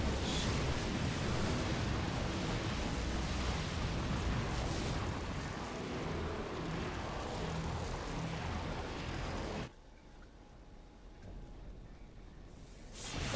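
Heavy cannon barrage explosions in StarCraft II, a loud continuous rumbling roar that cuts off abruptly and leaves quieter background rumble.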